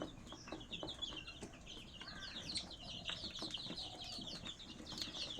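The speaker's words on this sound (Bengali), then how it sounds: "এখানে হচ্ছে গিয়ে সব সোনালি মুরগি আছে" Sonali breed chickens and chicks on a poultry farm cluck and cheep steadily, many birds calling close by with overlapping chirps and occasional wing flutters.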